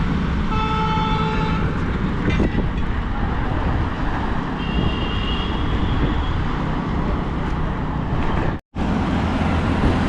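Continuous roar of heavy road traffic in Kolkata near Patuli, heard from a moving bicycle, with car horns tooting early on and a sudden brief dropout near the end.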